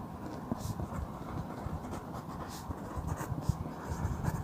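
A pen or marker writes maths equations during a lecture, a soft continuous scratching with short strokes and taps over faint room noise, no voice clearly heard.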